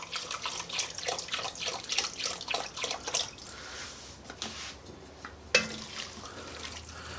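Chicken stock poured into a pot of southwest chili makes a steady splashing, trickling stream for several seconds. It thins out, then a sharp clunk follows near the end.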